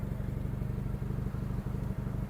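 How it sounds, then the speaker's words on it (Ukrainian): A small 33-horsepower cab tractor engine chugs nearby as it drives out, with a steady, rapid low thrum, moderately loud and continuous. "Виїжджає наступний тракторець з кабіною 33 кінських сили, швидкісний."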